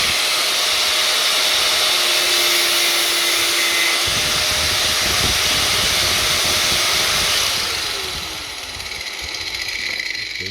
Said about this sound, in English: Hopefully that's going to be the last time that I'm using a grinder to cut stuff here